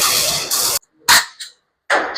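Zastava AK47 rifle fired outdoors at a range, with sharp loud cracks in quick pairs separated by short silences, close to the listener.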